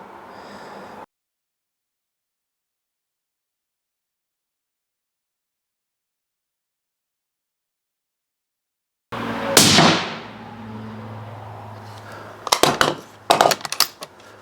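A suppressed rifle fires 69 grain match ammunition: after long silence, one sharp, muffled report with a quick decaying tail, followed by a few brisk mechanical clicks and clatters nearby.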